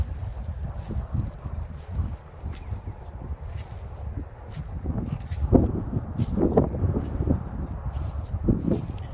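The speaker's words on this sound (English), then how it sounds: "It's very windy out today" Gusty wind buffets the microphone in uneven low rumbles, with occasional thumps and faint movement, outdoors at an old cemetery in Linglestown, Pennsylvania, with no clear talking.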